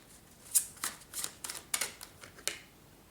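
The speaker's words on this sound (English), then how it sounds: "I'm going to shuffle real quick" Tarot cards are shuffled close to the microphone in a quick, soft run of riffling bursts, about a dozen papery flicks over a few seconds in a quiet room.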